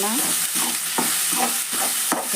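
A spoon stirring sprouted horse gram curry with chopped tomato in a hot pan, giving a steady close sizzle broken by several scraping strokes at a loose, uneven rhythm.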